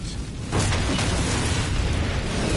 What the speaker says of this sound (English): That's an explosion and a half.